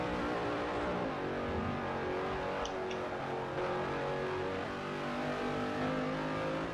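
Race car engine from a racing video game roars steadily at high revs throughout, a dense continuous drone with layered harmonics and slight pitch shifts as the car pushes hard, heavily damaged after hitting a wall, on the Sunset track.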